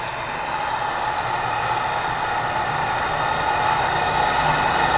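Heat gun on low heat warming the adhesive and tape on car trim, a steady loud blowing hiss with a fan hum that runs continuously without a break.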